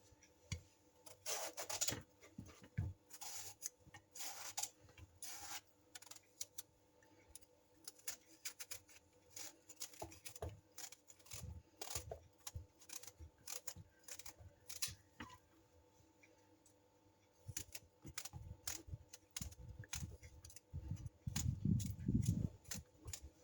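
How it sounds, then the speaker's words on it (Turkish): A knife finely chops peeled tomatoes on a board, producing quiet, irregular clicks and scraping taps in scattered bursts with brief pauses, then a denser run of cuts near the end. "Soyduktan sonra şöyle ince ince doğruyorum."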